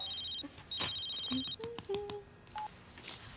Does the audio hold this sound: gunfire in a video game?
no